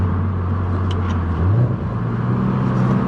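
Car engine revving up and dropping back during downshifts, a loud steady drone from inside the car with a brief rising blip in pitch partway through, no talking.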